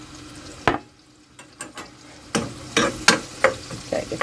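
Spam hash seasoned with garlic powder, salt and black pepper fries in a skillet, with intermittent scraping stir strokes and clattering bursts over a low background sizzle, close and moderately loud.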